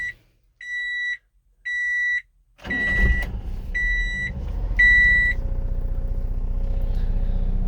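A cold Honda Acty engine cranks and catches after a series of loud electronic warning beeps, then settles into a steady, low, rumbling idle close by.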